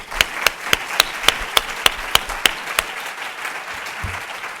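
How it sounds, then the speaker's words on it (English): An audience applauds at a Harvard Law School celebration, with a run of sharp, distinct claps at a steady beat over a softer wash of clapping that tapers off near the end. "Please join me all in just applauding them."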